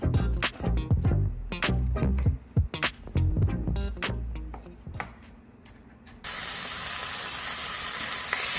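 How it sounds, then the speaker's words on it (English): A pound of ground beef hits a hot enamel-coated cast iron pan after some knocking and clattering of kitchen tools, breaking into a loud, continuous, broadband sizzle that fills the end of the clip. "Listen to that sizzle."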